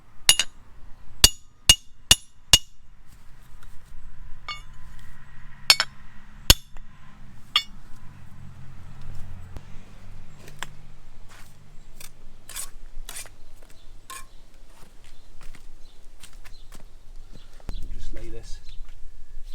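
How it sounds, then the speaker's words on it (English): Engineering bricks being cut down to half bricks during a brick BBQ build: a series of sharp, loud knocks and chips, irregularly spaced, over a low background hum, with a voice speaking quietly at times. "Now these engineering bricks can be a bit of a pain to cut."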